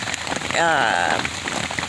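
Rain patters steadily on a Quest 4-man tent, a close, even hiss of drops on fabric, with a brief voiced sound rising over it partway through.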